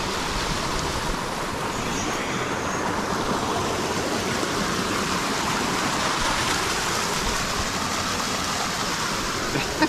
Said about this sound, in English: he's making a little waterfall